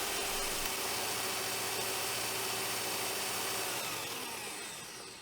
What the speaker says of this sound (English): because I was drilling a soft piece of timber